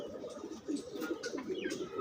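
Pigeons of fancy breeds such as grizzles cooing in a loft, soft low throaty coos repeating in overlapping murmurs close by, with faint chirps above.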